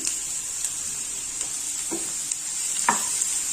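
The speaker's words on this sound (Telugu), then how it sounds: "అదే ప్యాన్లోనే ఆయిల్ ఉంది కదా దాంట్లోనే బీరకాయ ముక్కలు కూడా వేసి వేయించుకున్నాము" Ridge gourd pieces frying in oil in a pan, a steady close sizzle with occasional stirring scrapes and clinks, no voices.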